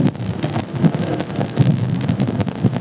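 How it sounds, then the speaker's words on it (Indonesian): Strong wind gusts roar steadily during a heavy rainstorm at a wet motorcycle race, broadband rushing noise buffeting the microphone continuously with no talk. "angin yang bertiup amat sangat kencang"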